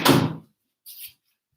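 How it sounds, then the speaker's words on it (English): A door is pushed shut, giving one firm close thud at the start, followed after a short silence by a faint brief click of the latch. "I'm just going to shut my door"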